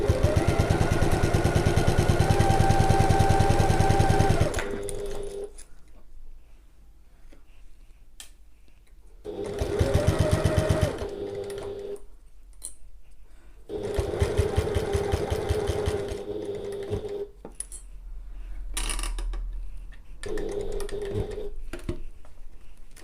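A sewing machine stitches a zip bridge for a bag at regular stitch length, running in several loud bursts of steady rapid motor hum and needle clatter separated by quiet pauses, with no talking.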